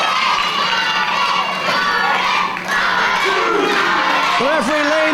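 Wrestling crowd at an Irish Whip Wrestling show roars steadily with cheers, shouts and children's yells, loud and continuous throughout, with a brief dip in the middle and a few rising whoops near the end.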